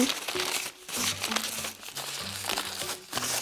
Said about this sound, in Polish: tak jak papier leci, sobie zawijamy